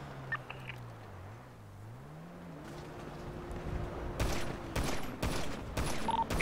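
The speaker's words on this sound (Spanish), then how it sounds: "Escucho un disparo, si la izquierda me da a mí." Gunfire in a GTA roleplay game: after a quiet, droning stretch, several loud, sharp bursts of rapid shots ring out in quick succession near the end.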